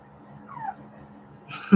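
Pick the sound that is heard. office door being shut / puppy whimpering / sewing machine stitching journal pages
puppy whimpering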